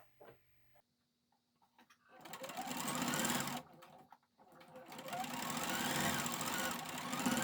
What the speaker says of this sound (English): I am going to back stitch at the beginning and ending just because this is where we're going to start to lock everything together